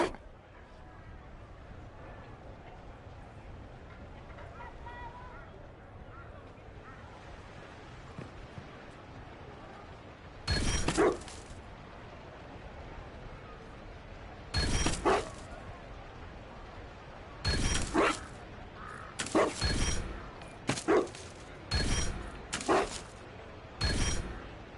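A dog barks in the video game Dragon Age: Inquisition, with a few separate sharp barks breaking a quiet ambience, then a quick run of yips and barks near the end.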